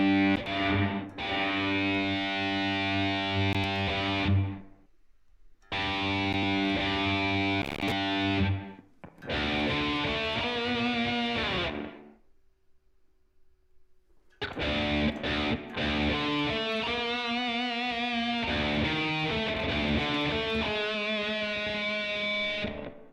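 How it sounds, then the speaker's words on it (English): Sustained distorted musical chords play in long blocks separated by brief gaps, carrying a dense, roomy convolution-reverb wash from an iOS app that lingers as each phrase fades. "And we'll throw on a convolution reverb."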